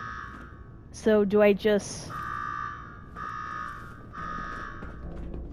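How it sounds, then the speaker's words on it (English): An electronic alarm in the Fallout 4 video game rings in repeated steady buzzing tones, moderately loud, while someone speaks briefly over it. "Now go shut off that damn alarm."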